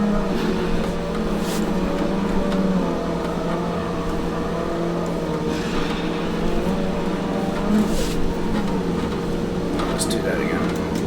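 Simulated car drifting in the Assetto Corsa racing game: a loud, sustained engine drone with a steady hum and shifting revs, running unbroken throughout.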